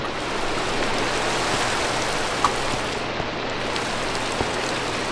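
Steady rain in the video game Minecraft, a continuous even hiss of falling drops at moderate level with a low hum beneath, no voices.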